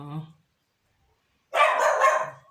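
A small dog yaps in a loud, dense burst of barks after a brief voice and a pause, the yapping carrying on for about a second with no talk over it.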